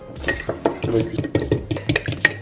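Egg and milk being stirred together in a bowl, with repeated clinks and scrapes of a utensil against the dish in a quick, uneven rhythm, close and fairly loud.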